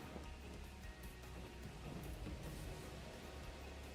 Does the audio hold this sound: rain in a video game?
yes